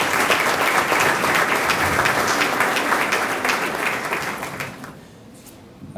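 Audience applause at an awards ceremony, a dense, loud wash of clapping that holds steady and then fades out near the end.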